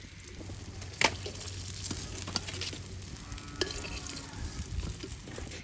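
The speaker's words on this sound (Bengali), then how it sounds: "সিম, ফুলকপি, আলু আর মরিচ, কাঁচামরিচ ভেজে নিছি।" Beans, cauliflower, potatoes and green chillies fry in oil for khichuri, giving a steady sizzle with occasional scrapes and stirring clatters, close and moderately loud, with no talk.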